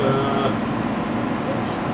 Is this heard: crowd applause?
no